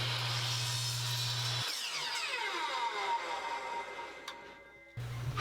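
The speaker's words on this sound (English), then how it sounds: "so I'm able to use my chop saw, but it doesn't go the whole way through." A chop saw cuts partway through plywood: a steady motor whine is cut off, followed by a loud ringing, gradually slowing spin-down, then the motor starts up again at the end.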